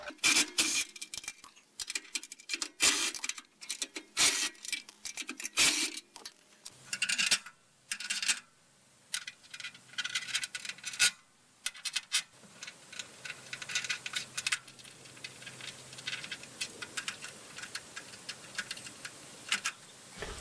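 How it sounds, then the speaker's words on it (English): Bolts being loosened and removed from the steel frame of a Norwood sawmill, with close metallic ratcheting clicks and clanks in uneven bursts, then a steadier high rattling wrench sound, all without talk. "The rear bracket for the log lifter is going to attach to bolt holes number 26 and 27 on the frame. So first thing we'll do is get those bolts out."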